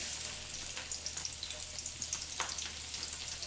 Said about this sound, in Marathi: तो लसूण टाकते आता.